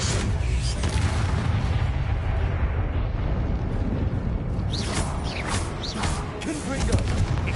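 Confringo and Expelliarmus spell blasts in the Hogwarts Legacy video game, during Percival Rackham's trial: dense, loud, booming bursts and rumbling impacts pile up continuously, with sharper crackling hits near the end.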